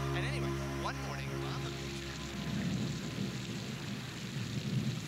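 Rain and thunder in a 1985 film scene, with a steady wash of rainfall and low rumbling under sustained tones and some voice-like sounds early on.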